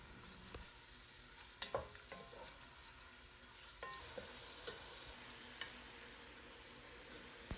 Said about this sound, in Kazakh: Қызған майымыздың үстіне етімізді салып, оны толықтай қызарғанша қуырамыз.